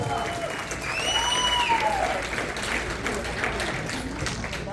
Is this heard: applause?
yes